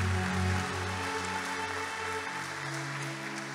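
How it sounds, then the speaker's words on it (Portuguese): A congregation at a church service applauds in a steady, dense wash of clapping, with sustained musical tones droning underneath throughout. "Você pode aplaudir ao Senhor por isso?"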